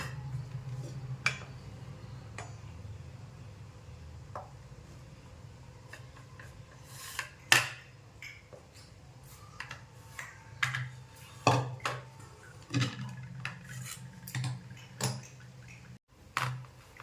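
Quiet, close scraping and tapping as a spatula spreads a thick barfi mixture across a plate, in irregular strokes that grow busier toward the end.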